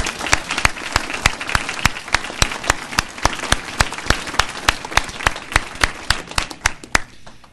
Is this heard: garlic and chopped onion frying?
no